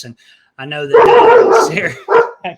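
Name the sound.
dog barking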